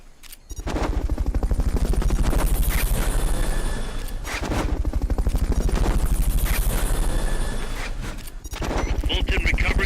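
A Fulton recovery helicopter in a Metal Gear Solid video game beats loudly and steadily, its rapid rotor chopping close and continuous for the whole stretch, with brief dips where other game sounds cut in.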